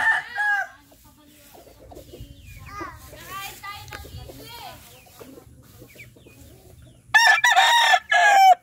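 A bulik stag rooster crows loudly and close, with a brief call at the start and a long full crow near the end, while children's voices and chatter fill the middle.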